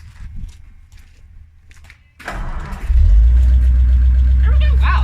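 A 1951 Ford F1 truck engine turns over and fires quickly, settling into a loud, low rumbling run close by, with brief talk and small handling noises before it starts.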